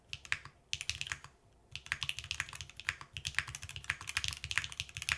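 Fast typing on a custom-built Tofu 40% mechanical keyboard, close and crisp keystroke clacks in rapid bursts with one brief pause, no voices.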